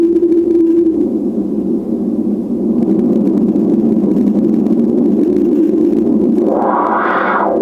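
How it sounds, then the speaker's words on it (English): Hiss of white and pink noise from a Moog Sonic Six synthesizer under repair, loud and steady throughout with no speech, a brief tone at the start and a rising swell near the end. "White and pink noise."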